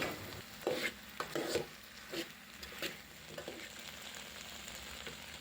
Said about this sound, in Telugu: మామిడికాయ ముక్కలను కూడా అందులో వేసుకొని కలుపుకొని మగ్గించుకోవాల్సి ఉంటుంది